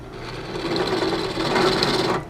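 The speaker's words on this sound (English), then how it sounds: "I think I'm gonna go ahead and countersink the other side" A drill whines steadily while countersinking a screw hole in a homemade wooden angle-finding tool, one continuous close pass with no talking.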